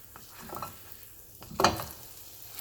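Hotteok, Korean sweet filled pancakes, sizzle in a pan as they are flipped, with soft frying crackle and a brief louder burst of sizzling and stirring partway through.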